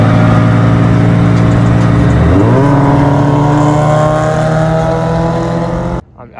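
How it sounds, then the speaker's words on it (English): A Scion FR-S with an aftermarket exhaust drones loudly and up close, revving up through a steady climb in pitch before cutting off abruptly near the end. "I also have an exhaust,"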